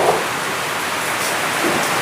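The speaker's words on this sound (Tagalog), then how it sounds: "Ayan, ang lakas ng ulan." Heavy rain pours down as a dense, steady wash of noise that stays constant and fairly loud throughout.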